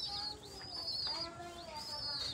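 Pigeons coo close by in a few soft, throaty, rising-and-falling calls that repeat in quick succession over a faint background hiss.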